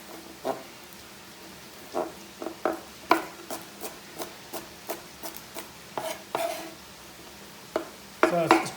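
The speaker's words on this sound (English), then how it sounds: "So let's give this a chop crossways." A kitchen knife chopping asparagus crossways on a board, a series of sharp, irregular close taps with short pauses between cuts.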